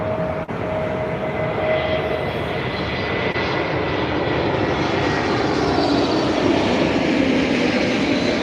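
Aer Lingus Airbus A321neo in flight near Dublin Airport, a loud continuous jet engine roar with broad rushing noise and a faint steady whine, sustained throughout without talk.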